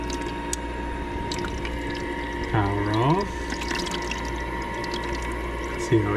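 An IGLOO countertop ice maker draining its water with a brief gurgling, sliding dump over a steady mechanical hum, followed later by a small click, while a person talks nearby.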